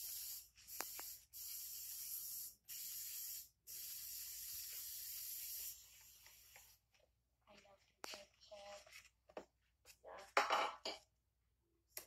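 Short bursts of canola oil are sprayed into a pan for a chocolate bizcocho, several sharp hissing puffs in quick succession, followed by quieter clatter and faint talk near the end.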